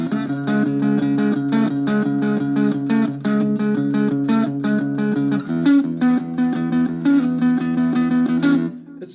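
A heavily distorted electric guitar plays a chugging, repeating riff with thick sustained low chords, loud and continuous throughout.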